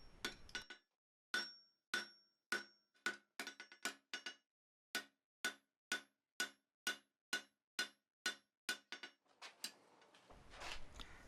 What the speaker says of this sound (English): I prefer to use the bick or the horn for gross drawing out, and then refine the product on the flat face of the anvil.